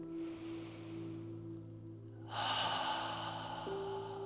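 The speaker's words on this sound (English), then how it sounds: "Take a nice, long, deep breath, deep cleansing breath." A slow, deep cleansing breath during guided meditation: a soft, airy inhale, a pause, then a longer, fuller exhale, close and gentle over a steady low tonal drone.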